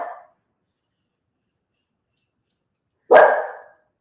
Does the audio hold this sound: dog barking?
yes